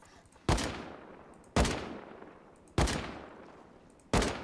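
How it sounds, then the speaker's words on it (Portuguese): Gunfire in the video game Rust: four sharp, loud single shots spaced about a second apart, each with a decaying echoing tail. "Quem tá atirando? Você ou eu?"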